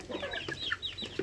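Native chickens cluck nearby, a short run of quick, overlapping clucks and calls.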